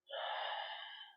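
A single smooth breath drawn in through the nose or mouth during a sun salutation yoga sequence, soft and close, lasting about a second with no talking over it.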